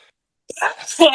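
A single short sneeze bursts out after near silence, followed immediately by breathy voiced sound, close to the microphone in an indoor podcast setting.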